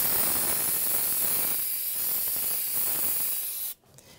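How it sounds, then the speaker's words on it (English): Aerosol brake cleaner sprayed onto the rear wheel cylinder brakes of a 1996-2006 Jeep Wrangler, a loud continuous hiss lasting nearly four seconds before it cuts off abruptly. "So now I'm gonna clean it off with some brake clean."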